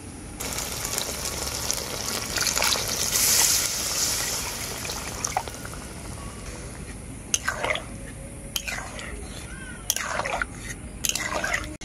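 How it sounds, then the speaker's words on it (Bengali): Water poured into a pan of browned chicken curry to make the gravy, a steady trickling and splashing that runs through most of the stretch, with a few sharper drips and clinks near the end. "এই সময় দিয়ে দেব পরিমাণ মতো জল ঝোল করার জন্য"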